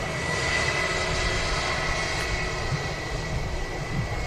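A passenger airliner's jet engines rumble steadily outdoors at Manchester Airport, a continuous loud broadband roar with a low throbbing base and no voices.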